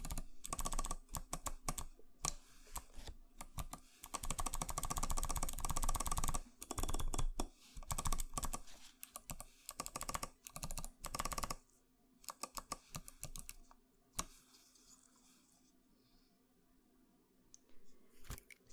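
Typing on a hot-swap mechanical keyboard, a dense run of crisp clacking keystrokes in bursts with short pauses, close and fairly quiet, with no talking.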